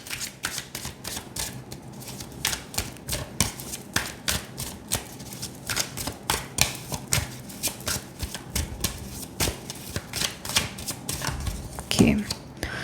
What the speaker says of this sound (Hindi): पहले हम पास्ट के बारे में कार्ड्स पुल करेंगे, फिर प्रेजेंट, फिर फ्यूचर